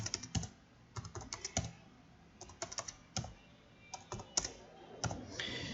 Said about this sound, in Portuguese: Eu coloco o número e dou um Enter.